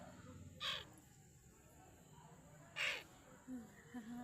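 A crow gives two loud, harsh caws a couple of seconds apart, followed by a few shorter, softer calls, heard at moderate distance over quiet outdoor background.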